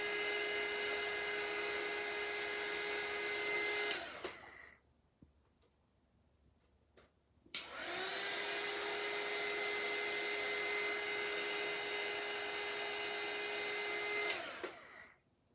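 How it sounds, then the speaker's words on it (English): A heat embossing heat tool blows hot air in a steady, loud whooshing roar, running for about four seconds, cutting off briefly, then starting again for another long, even stretch before switching off. "Because the heat tool is quite hot."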